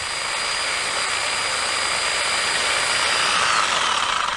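A powered hedge trimmer runs continuously while cutting a hedge, a loud, steady buzzing motor drone with a high whine and no talk.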